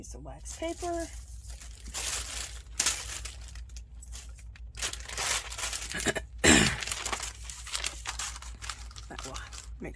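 Wax paper handled during collage work, with bursts of crinkling and crumpling rustles spread through the clip alongside brief speech and other handling noises.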